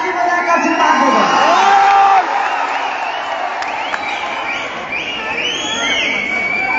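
An award-show audience at the Dangal Award cheers, whoops and claps in a loud sustained wash of crowd noise, with high shouts and whistles rising over it.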